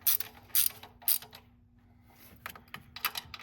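Thermostat housing bolts on a 2014 GMC Sierra truck are tightened evenly with a ratchet, giving crisp bursts of clicking in several short runs separated by quieter pauses, close and fairly loud.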